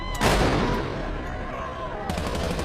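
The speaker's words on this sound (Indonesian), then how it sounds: "ia melihat tentara sedang baku tembak dengan pemberontak yang dikenal dengan nama sebutan Firefly" Gunfire crackles in a firefight between soldiers and rebels in The Last of Us, with a loud burst of shots up front that settles into sustained rattling fire and fresh volleys near the end.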